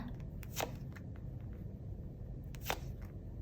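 Tarot cards are shuffled by hand close up in a quiet room, with two quick riffling bursts and a few lighter card taps and flicks between them.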